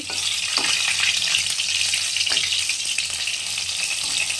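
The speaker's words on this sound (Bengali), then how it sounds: "কাতলা মাছটা কড়া করে ভেজে নিচ্ছি" Katla fish pieces fry crisp in hot oil, giving a loud, dense, steady sizzle that holds evenly throughout, with a couple of faint clinks near the start.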